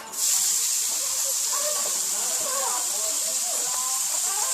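Chopped yellow onion, shallots and garlic hit a hot paella pan, a sudden loud steady sizzle that holds evenly throughout, with a voice talking faintly beneath it.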